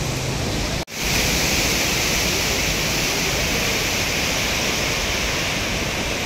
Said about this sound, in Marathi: जबरदस्त आवाज आहे आणि प्रवाह बघ किती आहे. जोरदार प्रवाह आहे पाण्याचा.